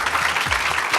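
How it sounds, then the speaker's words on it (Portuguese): Brief burst of audience applause at a university careers panel event, steady dense clapping filling the short moment with no voices. "Aplausos para o Leonardo."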